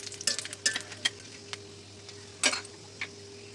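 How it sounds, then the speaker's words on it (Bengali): Whole spices (a cinnamon piece, cloves, a peppercorn and cardamom) fry quietly in oil, with a faint low sizzle and a few sharp metallic ticks and taps from a utensil against the pan. "এগুলো তেলের ভিতরে দিয়ে দেব আর সামান্য একটু ভেজে নেব।"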